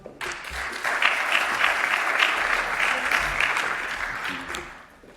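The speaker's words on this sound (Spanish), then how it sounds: "Un aplauso, por favor." An audience at a talk on New World and Old World wine, tradition and innovation, clapping, rising quickly to a steady round of applause that holds for several seconds before fading out.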